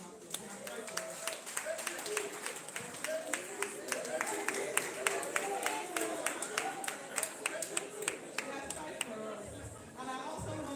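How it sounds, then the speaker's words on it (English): An audience at a talk on AI for research gives a round of applause for the team, a lively run of claps that swells and then thins out toward the end, with voices heard beneath it. "let's give our team a round of applause"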